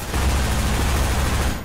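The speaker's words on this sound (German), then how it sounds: "Und jetzt noch ein bisschen SMG." Submachine gun fire in the shooter game Eye of the Storm, a dense, continuous rattling burst that stays loud and close for under two seconds with no speech.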